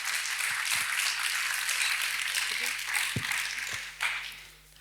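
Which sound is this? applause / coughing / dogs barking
applause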